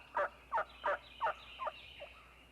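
Wild turkeys calling in a series of five loud, evenly spaced gobbling bursts, the last one fainter, over a quiet outdoor background with no talk.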